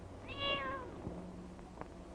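A single cat gives one clear, drawn-out meow close by in a quiet setting, followed by a few faint soft knocks and rustles.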